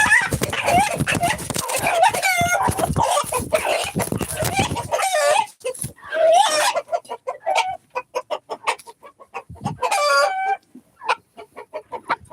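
Chickens from a backyard flock with a broody hen, clucking and squawking in bursts, a rooster-like crow among them; dense overlapping calls first, then sparser separate clucks, with some talk in the background.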